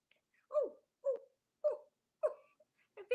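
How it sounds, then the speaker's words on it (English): A big dog gives a series of about five short, low, muffled woofs or whimpers, evenly spaced and fairly close, with silence between them. "A big dog."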